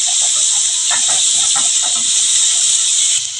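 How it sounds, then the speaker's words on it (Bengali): Green chillies and chopped onions fry together in a pan, producing a loud, continuous sizzling hiss throughout. "কাঁচা লঙ্কা পেঁয়াজ আমি একসাথে একটু ভেজে নেব"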